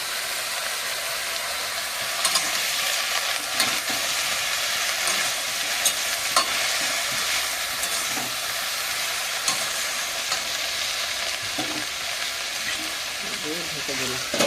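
Mixed vegetables with salt and turmeric fry in a pan while being stirred, giving a constant broad sizzle broken by occasional scraping knocks, and quiet speech is heard faintly underneath.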